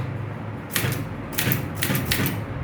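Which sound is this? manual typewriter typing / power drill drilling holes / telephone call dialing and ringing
manual typewriter typing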